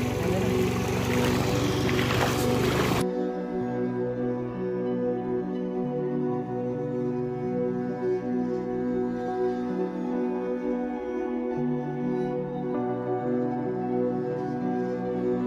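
A motorboat crosses Godavari floodwater near the Konaseema lanka villages, its engine a steady, loud droning hum that continues throughout after a brief burst of rushing noise at the start.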